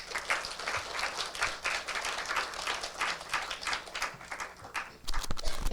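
Audience applause at an art museum residency event, a dense, even wash of clapping from a room of people that fades out near the end, followed by a few louder knocks and thumps.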